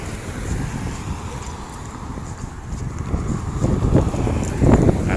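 Wind gusting outdoors during a walk through a neighborhood on a cool spring day, a steady rough low rumble buffeting the microphone that swells louder toward the end, with no talk.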